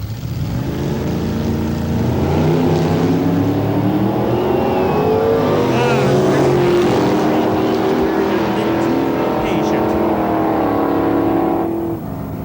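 A 1971 Chevelle drag car with a 454 cubic inch engine roars loud and steady at a drag strip, rising in pitch as it revs hard and then dropping off near the end.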